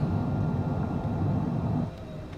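Cessna Citation CJ4 in Microsoft Flight Simulator 2020 rolling out after landing under reverse thrust and braking: a steady, loud low rumble of engine roar that drops slightly near the end.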